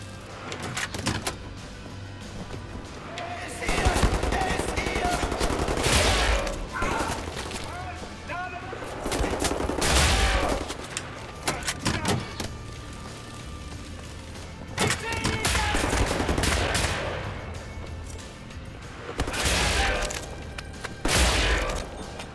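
Bursts of automatic gunfire from a weapon in the video game Wolfenstein: The New Order, loud and repeated in several sustained volleys.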